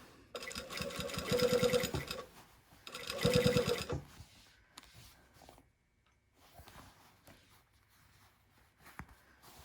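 Sewing machine stitching the collar of a heavy coat, with pins in the fabric: two loud bursts of rapid needle chatter, each about two seconds long, separated by a short pause, then quiet handling sounds and fabric rustle.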